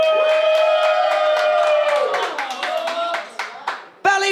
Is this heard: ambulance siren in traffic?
no